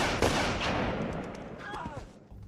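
A gunshot cracks out in a film scene where Jonas shoots Sergeant Parel, one sharp report ringing out ahead of fainter movie sound and voice.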